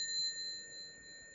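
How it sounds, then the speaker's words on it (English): A small bell, rung once in a hotel room, gives a clear, bright ringing tone that hangs on and slowly fades. It is quiet and alone over faint room noise. "Check out this bell."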